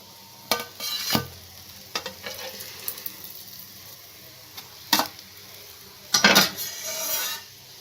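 A maida and potato snack frying in hot oil gives a low background sizzle, broken by a few sharp clinks and scrapes of utensils against the pan as pieces are turned and lifted out.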